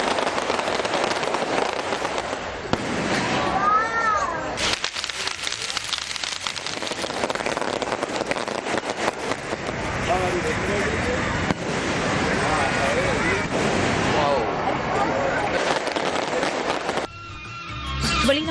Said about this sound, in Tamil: புத்தாண்டை வரவேற்கும் நோக்கில் தம்முலை மக்கள் வானவெடி வெடித்துக் கொண்டாடிய காட்சிகளே இவை